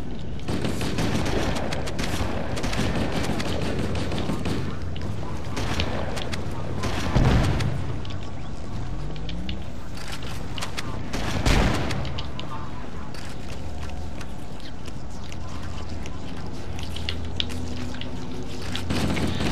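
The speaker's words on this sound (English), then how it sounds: "Now here's something that's shooting me with a shotgun." Enemy shotgun fire in Halo: Combat Evolved, heavy booming blasts among continuous battle noise, with a couple of louder reports standing out while a voice talks over the action.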